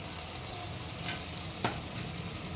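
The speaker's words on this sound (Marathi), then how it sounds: "आता आपण यामध्ये थोडंसं स्टॉक टाकून घ्यायचं आहे" Stock poured into chicken masala frying with its spices in oil, giving a steady, close, crackling sizzle throughout, with one sharp tap or clink of a utensil partway through.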